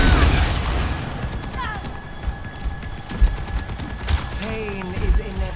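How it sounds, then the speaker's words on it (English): Tactical blaster firing in the Overwatch 2 multiplayer shooter: a burst of rapid, punchy shots with a sharp crack, then scattered louder blasts and game effects continuing over a busy, noisy background. "Tactical blaster activated."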